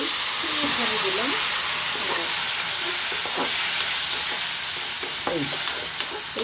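Egg and onion curry with sour yogurt fries loudly in a pan, a dense continuous sizzle with repeated stirring scrapes and a faint voice murmuring underneath.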